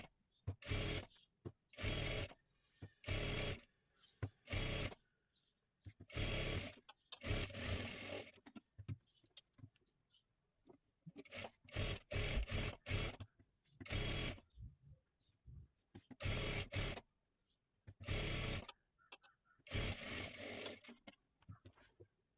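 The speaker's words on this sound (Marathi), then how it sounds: "एकदम कडेकडेला पूर्ण शिलाई देऊन घ्यायची आहे दोन्ही सुद्धा बाजू" A sewing machine stitches lining close along the edge of a puff sleeve in bursts of loud, close whirring, each run lasting one to two seconds, separated by short pauses.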